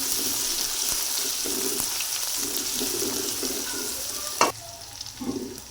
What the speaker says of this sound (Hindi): ये हम डालेंगे लहसुन अदरक का पेस्ट, हल्का से इसे सौते करेंगे।